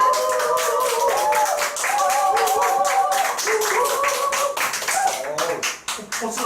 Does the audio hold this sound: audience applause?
yes